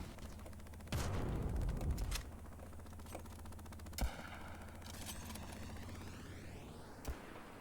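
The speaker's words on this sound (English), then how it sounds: "And 2 machine gun, you can hear the sound from it. The one who is kept shooting is the rocket launcher." Video game gunfire from two machine guns and a rocket launcher: a loud burst of rapid fire near the start, then scattered sharp bangs and mechanical whirring with a sweeping tone, no voices.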